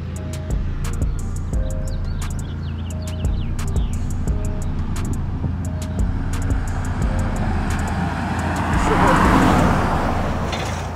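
An all-wheel-drive Dodge Charger R/T and a rear-wheel-drive Challenger R/T street race in Mexico, engines droning steadily up close before revving louder toward the end, with someone talking over the noise.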